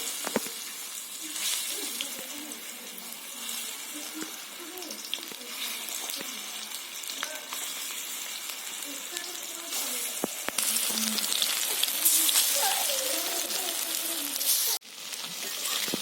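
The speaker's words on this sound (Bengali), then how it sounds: "এই দেখুন এই পকোড়াগুলো ভাজা হয়ে গেছে" Batches of drumstick flower and prawn pakoras sizzle in oil, a steady close frying hiss that swells louder near the end, broken by brief clatter.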